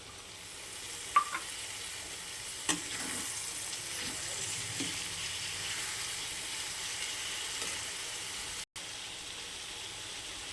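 Tomato pieces fry in a pan for an ivy gourd curry, giving a steady, moderate sizzle with a few faint scraping stirs, and no talk.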